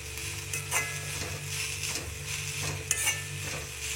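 Greens sautéing in coconut oil in a pan, a moderate sizzle with repeated rhythmic scrapes and clinks of a spatula stirring, no talking.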